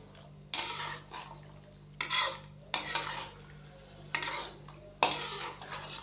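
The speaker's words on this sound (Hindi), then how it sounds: "दही को शामिल करने के बाद अच्छे से हम इसको मिक्स करेंगे।" A spoon works yogurt into beef karahi in a metal pot, giving about five distinct scraping, clinking stirring strokes at an uneven pace, close and fairly loud over a steady background hum.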